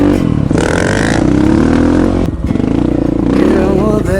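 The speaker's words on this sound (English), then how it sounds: "Heavy Metal Dave's on a KLX" A Kawasaki KLX dual sport motorbike ridden off-road gives a loud, close engine drone that rises and falls with the throttle and runs without a break for about four seconds.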